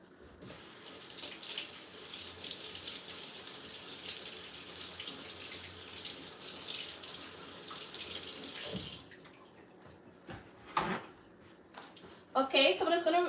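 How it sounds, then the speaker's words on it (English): An orange is rinsed under a kitchen tap as water runs in a steady, close hiss for several seconds, then cuts off, followed by a few brief handling clatters and rustles. "So I'm gonna rinse this orange, and I'm gonna make a bowl."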